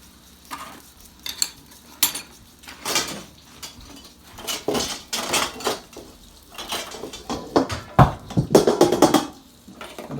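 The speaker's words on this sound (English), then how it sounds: "in the wok I'm going to use this to stir it around a little bit and break it up" A utensil scrapes and clanks against a wok as fried cabbage is stirred and broken up, with irregular metallic knocks and rasping strokes over a faint sizzle, close and fairly loud.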